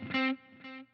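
A guitar played through a Line 6 Helix Heliosphere delay with a touch of reverb: a bright sustained note rings out, then a softer echoed repeat follows and fades, alone and close.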